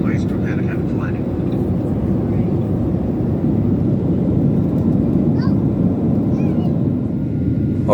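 Inside a Virgin Australia Boeing 737 cabin before landing at Brisbane, a steady engine and air roar fills the space, with faint voices and a few soft chimes over it.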